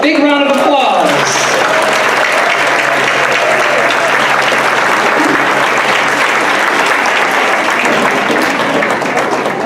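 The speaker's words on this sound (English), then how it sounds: "Big round of applause." Loud, sustained applause from a large crowd at a Pride celebration, steady clapping filling the space from start to finish after a brief voice at the outset.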